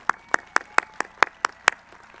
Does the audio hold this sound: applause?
yes